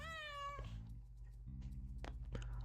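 A cat gives a clear, close meow at the start, followed by quieter rustling and small movement sounds in a room.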